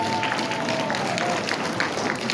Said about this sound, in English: So give them a round of applause so far.